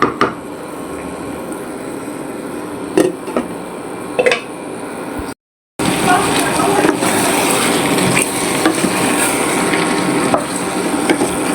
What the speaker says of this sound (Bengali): এখন এই যে তরকারি কষানো চলছে